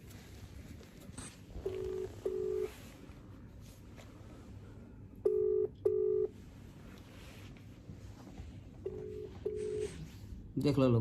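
An outgoing phone call rings out as repeated paired ringback tones in short pulses, separated by gaps, over a low background hum while someone talks nearby.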